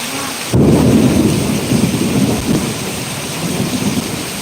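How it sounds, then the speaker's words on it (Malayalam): A sudden sharp crack of thunder bursts out, then rolls into a long rumble over the steady hiss of heavy rain. "നല്ല മിന്നും ഇടിയും"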